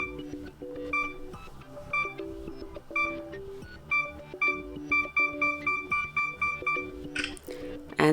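Self-timer countdown beeps from a Sony Xperia L4 phone camera: clear, evenly spaced electronic bleeps about once per second that speed up toward the end, over quiet background music.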